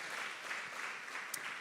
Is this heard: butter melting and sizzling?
no